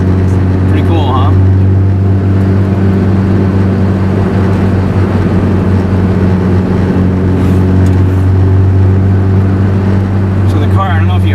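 A Lotus sports car engine roars loudly and steadily throughout, accelerating hard, a deep droning growl under load with a constant low rumble.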